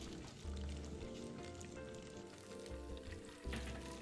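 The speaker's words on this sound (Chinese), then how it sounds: "下锅时用勺子贴着油面滑入，避免直接丢下溅油。" Seaweed tofu meatballs frying in hot oil, a steady crackling sizzle throughout with bursts of low bubbling as pieces slide in, close and fairly loud with no talking.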